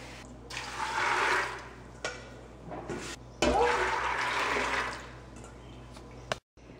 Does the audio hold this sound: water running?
yes